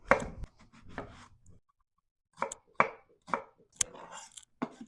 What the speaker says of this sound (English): for this recipe, yellow onions is the best. I'm going to slice it.